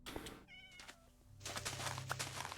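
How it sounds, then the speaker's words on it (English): A cat in the Minecraft video game meows softly a couple of times, faint and brief, against a low background of game ambience and rustling noise. "A cat."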